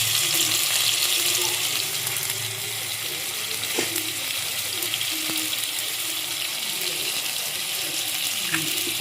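Ginger garlic paste frying in a pan with browned onions. There is a continuous, close, hissing sizzle with occasional light clinks, fairly even throughout with no clear talk.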